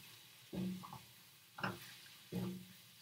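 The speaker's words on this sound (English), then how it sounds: "So I'm frying that up" A stir fry sizzles in a frying pan with a soft constant hiss. Three separate bursts of scraping and tossing come about a second apart.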